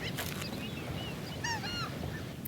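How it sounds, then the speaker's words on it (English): Seagulls call in the video game Battlefield 3, with several clear high squawking cries, a pair near the start and a louder cluster in the middle, over a steady ambient wind-like bed. "We also have a lot of patches of seagulls."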